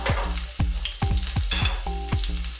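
Garlic sautéing in hot cooking oil in a preheated pan, a loud, close, continuous sizzle with repeated scraping and tapping from a stirring spoon. No voices.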